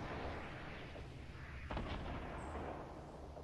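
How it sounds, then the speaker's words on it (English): A single sharp gunshot cracks out amid a steady low rumble in a Fortnite squad match, fairly distant and quiet, with no talk. "He's getting shot at"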